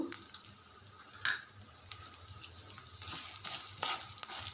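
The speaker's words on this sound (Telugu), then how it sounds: "ఇవన్నీ లైట్గా ఫ్రై అయ్యేదాకా కలుపుకోవాలండి" Urad dal, cumin and mustard seeds with green chillies fry lightly in a pan for a spinach chutney, a faint soft sizzle with sparse small pops and clicks, quiet and close, no talk.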